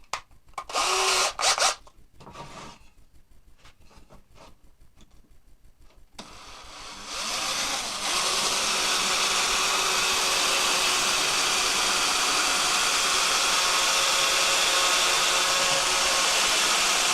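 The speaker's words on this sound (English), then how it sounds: "I'm going to drill and tap the end 1/4 20" A power drill boring into wood, first in a few short bursts, then a steady, loud, continuous whine that holds until the end.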